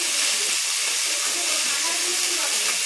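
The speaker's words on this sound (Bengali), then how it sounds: "তো এই যে ফুলকপি ভাজা বসিয়ে দিয়েছি" Cauliflower fries in a hot wok, giving a steady, close hiss and sizzle that fills the whole moment evenly.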